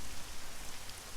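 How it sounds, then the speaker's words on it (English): Steady rain falling in the video game Elegy for a Dead World, a soft continuous hiss of drops on surfaces with no voices, even and close throughout. "Alright, so we're back to the rain."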